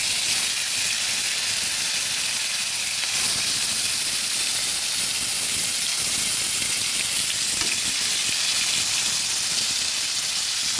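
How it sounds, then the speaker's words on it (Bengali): Koi fish pieces fry lightly in hot oil in a pan, giving a steady, loud, continuous sizzle and hiss with no pauses. No voice is heard over it. "এবার এক এক করে মাছগুলো দিয়ে দেবো। মাছগুলো আমি খুব হালকা ভাজবো।"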